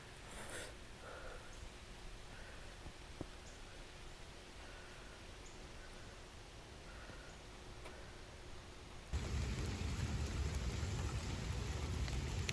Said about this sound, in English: Oh gosh, it's really raining.